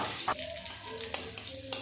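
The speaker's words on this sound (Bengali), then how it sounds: "একটু নেড়ে চেড়ে রসুনটাকে ভেজে নেব।" Garlic frying in hot oil for a fish curry: a quiet, steady sizzle broken by a few sharp clinks as it is stirred.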